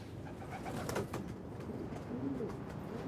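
Pigeons coo softly at a loft over steady low background noise, with a few muffled calls rising briefly and the low rumble continuing throughout.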